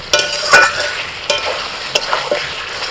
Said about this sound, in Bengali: মশলাগুলো দেওয়ার পর 2 মিনিট নাড়াচাড়া করে নিয়ে